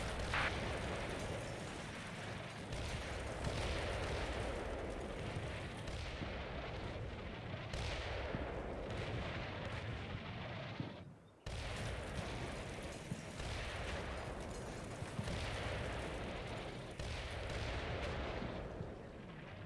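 Artillery fire-mission shells pound a town in the Cold War wargame Combat Mission Cold War, a long continuous rumble of blasts and booms that swells and eases, with a brief drop near the middle.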